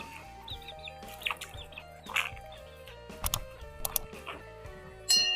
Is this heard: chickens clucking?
yes